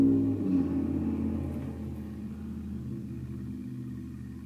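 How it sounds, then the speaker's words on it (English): A car passing outside gives a low engine rumble that is strongest at the start and slowly fades away, heard faintly with no talking. "Me waiting for the car to pass."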